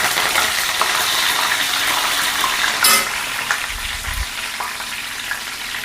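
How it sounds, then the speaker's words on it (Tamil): Curry leaves dropped into hot oil for a fish gravy, giving a loud, steady, broadband sizzle and crackle close by, with a brief burst near the middle and no talking. "அதான் போட்டு கருவேப்பிலை போட்டுக்கலாம்."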